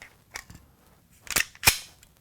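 Magazine released from a Gen4 Glock pistol with a checkered extended mag catch: a few sharp, close metallic-polymer clicks and snaps, two faint ones followed by two louder, crisp clacks, with no talking.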